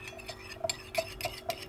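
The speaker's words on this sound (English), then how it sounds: "And just mix and stir." Homemade castor oil and flaxseed gel, with Jamaican castor oil, grapeseed oil and vitamin E, stirred in a container, a quick run of soft utensil clinks and scrapes with no talking.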